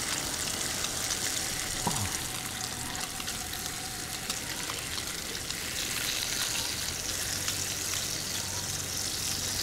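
Bacon strips fry on a hot griddle used for okonomiyaki, giving a continuous, crackling sizzle that stays fairly even and close for the whole stretch, with no one speaking.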